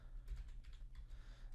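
Quiet computer keyboard typing in a series of soft, irregular key taps over a low background hum, with no voices.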